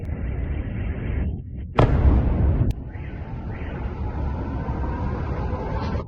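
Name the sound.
explosions from missile strikes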